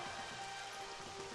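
Rain Dance weather effect in Pokemon Stadium 2, a steady hiss of falling rain pattering continuously throughout at moderate level, with no voices.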